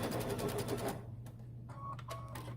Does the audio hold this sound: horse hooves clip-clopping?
no